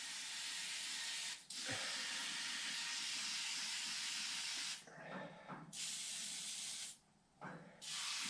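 Bursts of aerosol spray hissing close by into the door of a 1954 Henry J, long continuous sprays broken by three short pauses, loud and steady with no voices.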